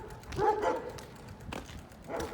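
Dogs bark from a distance outdoors, sent out by a sheriff's department, a few muffled separate barks spread over a couple of seconds, with no speech.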